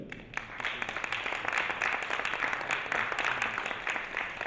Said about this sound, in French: c'est Marc Daubré, que je vous demande d'applaudir, s'il vous plaît.